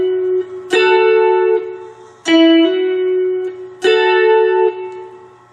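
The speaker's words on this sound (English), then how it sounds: "strike both of those together as a chord" Three slow strummed two-note chords on a 4-string cigar box guitar, each ringing out with sustained harmonics before the next strike, played alone and close.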